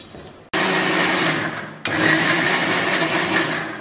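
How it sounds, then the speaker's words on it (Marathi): A mixer grinder whirs loudly as it grinds sesame seeds and dry coconut for an onion-garlic chutney, running in two steady bursts with a brief stop and restart between them. "तीळ आणि खोबरं हे आपण कधीही कुठलाही तुम्ही तिखट करा मिक्सरवर मध्ये बारीक करून न्यायचं आहे"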